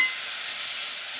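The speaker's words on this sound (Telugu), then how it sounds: "ఇందులో మనం తరిగి పెట్టుకున్నటువంటి టమాటా ముక్కలు వేసుకొని కలుపుకుందాం అవి కూడా మనకి కొద్దిగా మగ్గే వరకు మనం వేయించుకుందాం" Tomato pieces frying in a pan give off a brief, even, bright sizzling hiss that holds steady and close for about a second.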